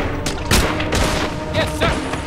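Sudden booms and crashing blasts in a World War II combat game mod, set by a smoking downed aircraft fuselage, with a grenade blast among several loud impacts over a dense battle din.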